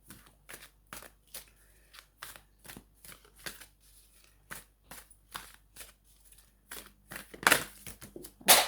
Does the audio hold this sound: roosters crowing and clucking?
no